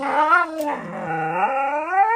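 A dog gives a loud, close, drawn-out howl with wavering pitch, starting in a higher yip and sliding into a long, sustained whining cry heard alone.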